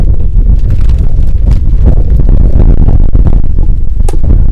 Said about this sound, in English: We get a gust of wind here at Lakewood Park